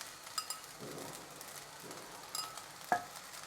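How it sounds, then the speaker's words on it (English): Soft, steady frying sizzle of sauce added to fried rice in a pan, fairly quiet, with a few light clinks of a utensil against the pan. "Ooh, you get even more sizzling sound."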